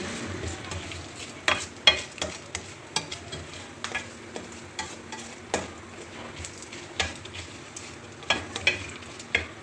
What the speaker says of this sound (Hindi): इनको भी आप अच्छी तरह फ्राई कर लें।